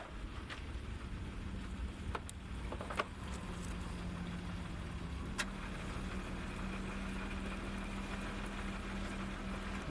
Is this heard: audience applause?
no